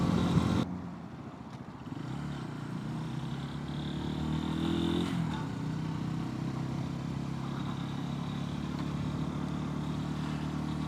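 A 250 cc motorcycle rides slowly through a Texas neighborhood, its mid-pitched engine droning steadily and close by, with a brief dip and rise in revs early on.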